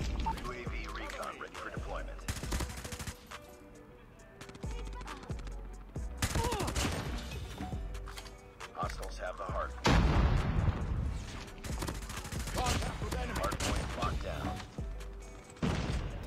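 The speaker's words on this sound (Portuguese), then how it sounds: "Ah não, um tiro." Gunfire in Call of Duty Mobile from an AS VAL rifle, repeated bursts of shots and booming impacts mixed with game sounds, fairly loud throughout.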